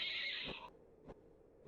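A horse whinny from the King's Quest II video game, a short bright neigh that cuts off abruptly, followed by faint quiet noise.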